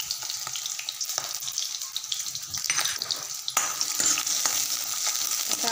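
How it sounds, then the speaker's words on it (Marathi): Onion frying in oil in a kadhai, a steady soft sizzle with occasional scraping and stirring clicks, fairly quiet and heard alone without talking. "आपण टाका ते थोडं तेल आणि त्यामध्ये टाकणार आहेत कांदा"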